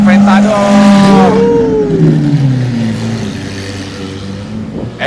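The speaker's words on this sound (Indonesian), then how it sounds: "Aventador." A Lamborghini Aventador engine revs hard on an uphill road, one loud rising and falling pitch that fades as the car moves away, with voices talking over it.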